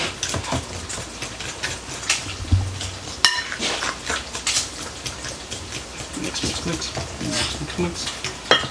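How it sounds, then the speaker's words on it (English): Corn dog casserole batter being stirred in a bowl until smooth, giving a steady wet scraping and sloshing with occasional utensil knocks against the bowl, mostly alone and at moderate loudness. "Now you just want to mix everything around till you get no clumps at all"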